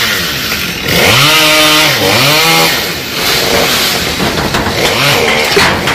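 A chainsaw cuts a tree trunk lodged in a house roof, loud and close, its engine rising and falling through several revving cuts over a rough grinding bite.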